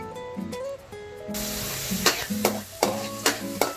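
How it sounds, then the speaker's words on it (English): Minced garlic sizzles in pork fat in a pan as it is sautéed until golden for fried rice. A loud hiss swells after a quieter start, and several sharp stirring clatters of a utensil break through it. "Saute the garlic, one pork fat. Add more if you like, until golden."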